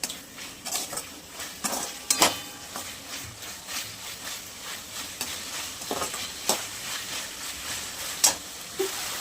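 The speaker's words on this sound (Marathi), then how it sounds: "तर आता आपण मस्त हलवून घेऊया." Soya chilli manchurian with three sauces being stirred in a pan, repeated spoon scrapes and clinks against the metal over a soft continuous sizzle.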